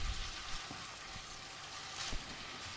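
Spinach stewing in a pan, a steady soft sizzle and hiss with a few faint stirring scrapes, alone and fairly quiet.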